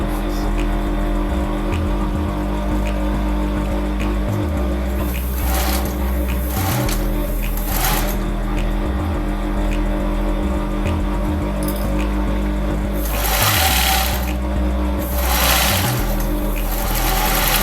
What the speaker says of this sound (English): Stitch the collar to the facing.